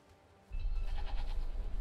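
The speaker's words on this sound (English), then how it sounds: "Feed the sheep." Sheep in the game Forspoken: after a brief quiet moment, a short bleating sound rises up, close and moderately loud, over a low rumbling background.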